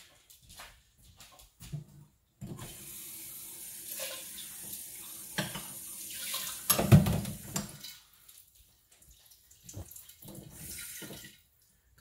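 A kitchen tap runs into a sink while a weeknight dinner of nachos is prepared, a steady rushing stream with clinks and handling noises, rising in the middle and then stopping, leaving scattered quiet bumps.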